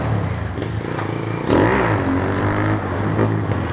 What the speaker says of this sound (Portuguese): A moto não quer subir não, mano.